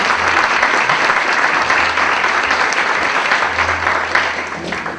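An audience at a rock night concert event applauds steadily and densely, a continuous wash of clapping that holds throughout with no talk over it.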